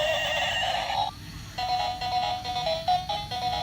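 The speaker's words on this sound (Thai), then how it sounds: "เสียงม้านี่เป็นเอกลักษณ์นะ" A white toy unicorn horse whinnies in a repeated electronic neigh, a bright, tonal, trilling call that pauses briefly and then resumes in choppy bursts, loud and close with no talking.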